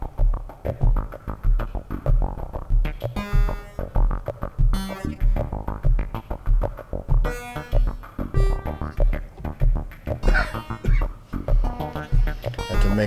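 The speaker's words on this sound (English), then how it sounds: "The sine wave output from that oscillator is going into Dresno, where Jena is processing it using bank 2," A modular synth sine oscillator run through a Dresno-type effects chain, with waveshaping modulated by an NLC Hypester. It plays a dense, throbbing drone with pulsing low bass and shifting tonal layers, continuous and fairly loud, with no speech.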